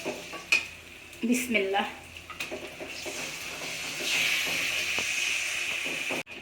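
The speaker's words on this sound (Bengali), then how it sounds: "তারপর এখানে আগে থেকে কেটে নেওয়া চিকেনগুলো দিয়ে দিচ্ছি" Chicken pieces fry with ginger and garlic in a hot pan, giving loud spattering and a rising steady hiss with some clattering; a voice speaks a single word near the start.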